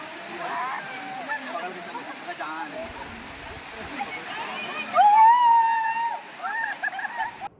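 A waterfall at Tiger Fall near the Chakrata hill station pours from above, making a steady broadband rush of falling water that runs beneath people talking and calling out nearby.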